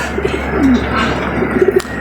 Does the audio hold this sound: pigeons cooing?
yes